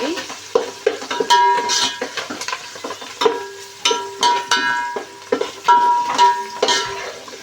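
Aloo pulao ingredients sizzle in a pan while a metal spoon stirs and scrapes, producing sharp, irregular clinks and scrapes over a constant frying hiss, close and fairly loud.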